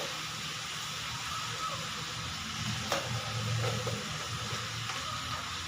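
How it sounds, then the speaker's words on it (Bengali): Cauliflower and other vegetables sizzle steadily in a frying pan while being stirred, with a soft continuous hiss and occasional scraping, close and moderate in level, no talk. "আমি এটাকে নাড়াচাড়া করে নিয়ে"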